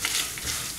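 Roasted chillies and garlic for chutney are stirred in a hot pan, giving a steady soft sizzle with scraping movement throughout and no speech.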